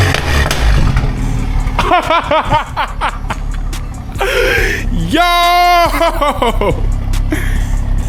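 A Toyota Supra fires up for the first time with a catless downpipe, giving a rough burst and a couple of short, loud revs near the car, mixed with excited shouts, gasps and laughter from people nearby.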